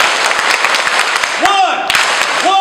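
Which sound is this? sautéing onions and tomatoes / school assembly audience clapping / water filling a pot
school assembly audience clapping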